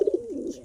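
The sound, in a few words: pigeons cooing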